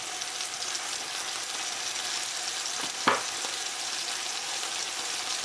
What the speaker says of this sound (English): Now the steak's cooking nicely